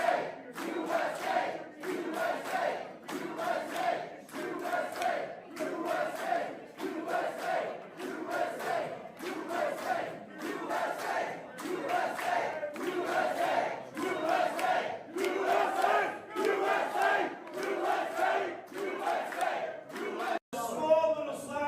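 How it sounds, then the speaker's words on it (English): A large crowd chanting "USA" in a steady repeated rhythm, loud and continuous, drowning out a speaker at a public event. "the crowd drowns you out by saying USA, USA, USA"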